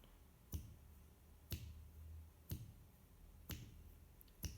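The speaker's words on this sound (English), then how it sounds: "snapping my fingers to a particular pace" Five crisp finger snaps land at an even pace about one second apart, close and isolated against a quiet background.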